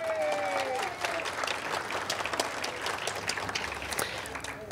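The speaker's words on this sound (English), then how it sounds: "a round of applause for my staff" An audience at a historical museum lecture applauds the staff with sustained, even clapping from a roomful of people, with faint crowd murmur mixed in.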